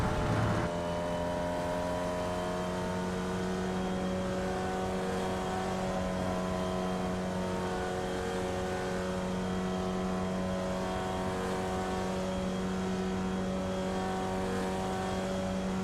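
Formula Vee race car engine in the iRacing simulator drones steadily at sustained revs, a buzzy harmonic tone holding nearly constant throughout with no talking.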